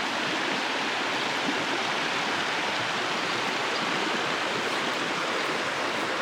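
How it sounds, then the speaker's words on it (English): Creek water rushes steadily at a trail crossing after flooding, a dense, continuous hiss of flowing water with no voices. "So we're coming up in the creek crossing here."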